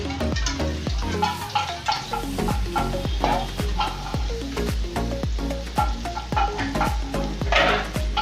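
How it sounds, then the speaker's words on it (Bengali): Spices sizzle and fry in a pan over a medium stove flame, with steady stirring strokes scraping through a continuous close hiss. "লক্ষ্য রাখতে হবে যেন এটা ভালোভাবে কষানো হয় ভালোভাবে যদি না কষানো হয় তাহলে একটা মশলার গন্ধ রয়ে যাবে"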